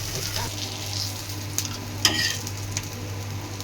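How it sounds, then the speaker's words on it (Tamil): Fish frying in a pan in a home kitchen, giving a steady crackling sizzle with a few sharper pops and spatters standing out, close and fairly loud, with no talking. "மீனையும் வறுத்து முடிக்க போகிறோம்"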